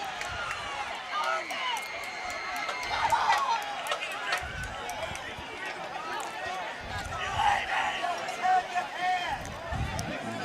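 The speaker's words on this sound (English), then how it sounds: "Yeah, the crowd's pretty upset, and rightfully so, in my opinion." Upset crowd at a high school football game between CCHS and Clinton, a broad steady roar of voices and shouting in the stands, swelling louder around a few moments, with nearby talk mixed in.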